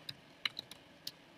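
A computer keyboard is tapped in a few light, irregular clicks, close and quiet, in a quiet room.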